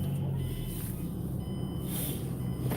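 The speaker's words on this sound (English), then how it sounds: "Oh, I guess I can turn the car on." A car engine turning over and settling into a steady low idle, close by, alone with no talk, a faint high tone riding above the rumble.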